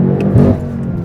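A BMW M8 Competition coupe pulls hard under acceleration, its engine and exhaust swelling into a loud, close, throaty roar that eases off after a brief surge, with no talking.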